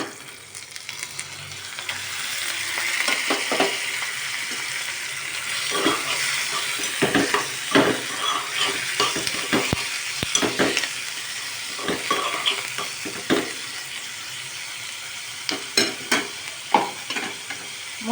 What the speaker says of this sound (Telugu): ఇప్పుడు పచ్చి రొయ్యలు వేసుకోవాలి.